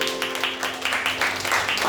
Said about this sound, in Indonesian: Tepuk tangan dulu nih untuk Willy.